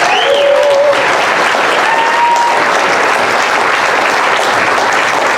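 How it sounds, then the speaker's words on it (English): Loud, sustained applause from a standing audience at a workforce development awards ceremony, dense and even throughout with a faint whistle early on. "Another big round of applause for Masters Night"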